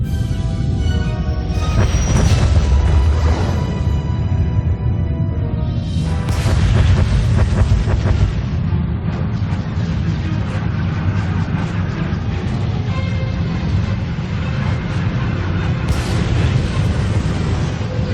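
Heavy booming explosions roll through a space battle bombardment over Corellia in Star Wars: The Old Republic, deep rumbling blasts near the start and again a few seconds later, over a continuous low thunderous drone.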